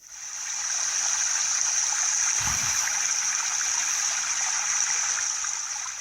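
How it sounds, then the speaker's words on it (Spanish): Water splashes and trickles steadily over stones, a constant rushing that fades in and out, with a brief low thump midway. "todavía pueden escuchar el agua cayendo sobre las piedras"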